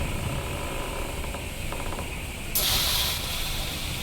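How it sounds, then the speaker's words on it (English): Steam bursts from a pipe in a video game, a sudden loud hiss that cuts in after a stretch of low mechanical clicking and whirring and holds steady to the end. "Now the steam is coming out here instead of upstairs."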